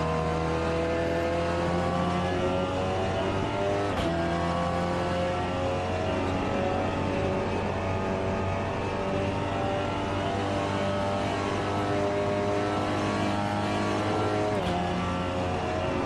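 A Seat Leon TCS race car engine in the Assetto Corsa racing game at Watkins Glen drones loudly and steadily at high revs, with brief pitch shifts from gear changes.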